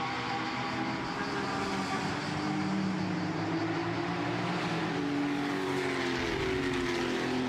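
Porsche Sports Cup race cars lap the Imola circuit, their engines roaring in a loud, continuous blend of several cars as they pass, with rising and falling pitch and no talking.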